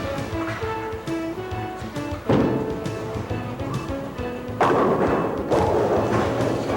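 A bowling ball thrown down the lane lands with a heavy thud and rolls beneath a continuous musical background, followed by further louder thumps.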